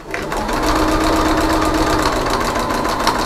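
A sewing machine backstitches through cotton fabric while sewing a folding bowl, a rapid steady mechanical chatter running loud and close for the whole stretch.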